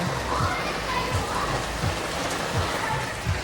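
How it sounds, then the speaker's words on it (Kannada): Heavy rain pours down loudly and without pause, a dense close hiss with faint voices underneath. "ಮಳೆ ಎಷ್ಟು ಜೋರಾಗಿ ಬರ್ತಿದೆ ಅಂದರೆ"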